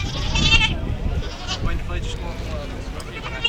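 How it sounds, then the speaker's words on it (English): Anglo-Nubian goats bleat at an agricultural show, a few wavering bleats amid crowd noise and nearby talking. "Dennis, tell us something about these goats here, please."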